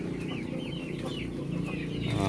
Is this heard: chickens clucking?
yes